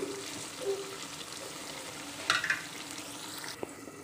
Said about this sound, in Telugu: వంకాయ కూడా చాలా బాగా పచ్చివాసన పోయి మంచి స్మెల్ వస్తుంది ఇలాగే ఫ్రై చేసుకుంటున్నాం